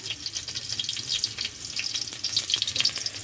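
Parshe fish frying in oil, a close, steady crackling sizzle with bright spitting pops scattered throughout, heard alone.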